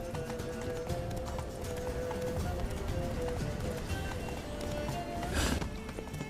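Horse hooves gallop in The Witcher 3, a steady rapid clip-clop rhythm at moderate volume, with a burst of noise near the end.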